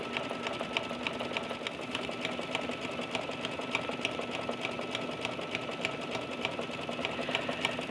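Embroidery machine stitching around a baby bib in the hoop with embroidery thread and a 75/11 embroidery needle: steady, rapid needle clatter at an even pace, close and continuous throughout, with no other sounds.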